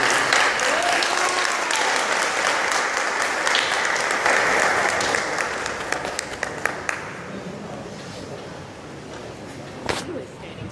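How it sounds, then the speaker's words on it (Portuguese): Congregation clapping in praise at a Portuguese-language church service, loud dense applause that gradually thins and fades in the second half, ending with a few scattered claps. "Vamos dar palmas a Deus"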